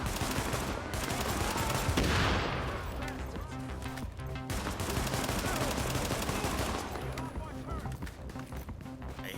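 SMG gunfire in The Division rattles in dense, rapid bursts within a busy game mix, with footsteps and talk over it throughout.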